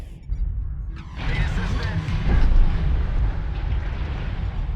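Heavy Gauss cannon firing in the video game MechWarrior Online, a loud rumbling boom after a brief quiet start, with a dense crackling blast that swells and sustains through the rest of the clip.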